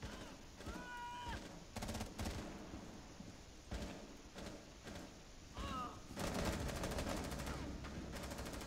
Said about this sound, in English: They're shooting it, still shooting through that window